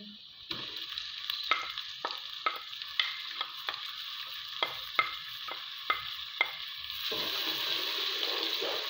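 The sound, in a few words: frying browned onions with tomatoes and chillies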